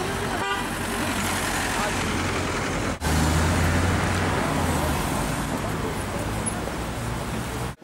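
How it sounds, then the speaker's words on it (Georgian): Heavy road traffic with a dense, continuous wash of passing vehicles, engines and a horn toot, loud and close, with a voice talking over it. "მანქანების დიდი ნაკადი მოძრაობს იქ"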